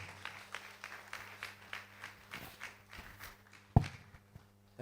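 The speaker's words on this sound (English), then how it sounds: "Please give him a round of applause." Scattered, rhythmic clapping at a community economic summit gathering comes in irregular bursts with a steady low hum underneath and a sharp loud knock near the end.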